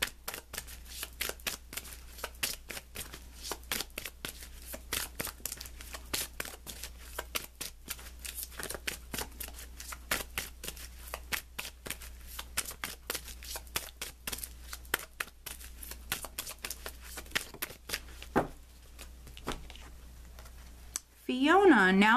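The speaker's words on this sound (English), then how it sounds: "let's pull you an additional guidance card" Tarot cards being shuffled to pull a guidance card, heard as a long run of fast, crisp riffling flutters close by, with a voice coming in briefly at the very end.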